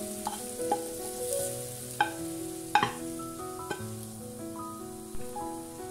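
A spoon stirs a potato, cheese and fried mushroom-and-onion filling for pies: soft scraping and clinking against the bowl comes in a loose rhythm, close and quiet, under steady background music with no talk.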